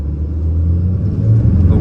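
A RAM 2500 diesel pickup with an 8-speed transmission accelerates hard from inside the cab, a deep, loud engine rumble building steadily over a couple of seconds.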